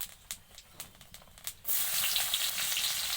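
Black cumin seeds hit hot oil for a cabbage stir-fry, starting with a few soft taps and crackles before a loud, steady hiss of sizzling takes over and holds.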